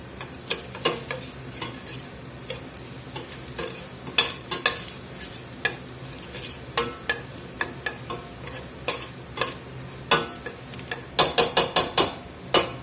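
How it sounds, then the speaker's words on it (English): Vegetables for broccoli cheddar soup sizzle steadily in a hot pot while a utensil scrapes and clacks against it in irregular strokes, quickening into rapid stirring near the end. "Let this sizzle up there a minute or 2."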